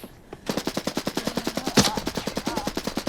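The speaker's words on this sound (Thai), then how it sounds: "มีคนยิงข้างหลังแกอีเบ้ยิงข้างหลังแก" Rapid automatic gunfire from a first-person shooter game, Arena Breakout Infinite, a loud, steady burst of evenly spaced shots running throughout with one heavier blast midway.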